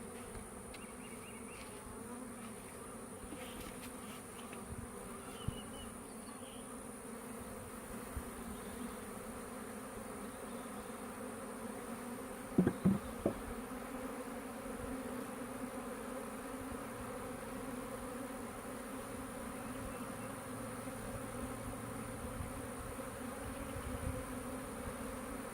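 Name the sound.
honeybee swarm buzzing while being swept into a hive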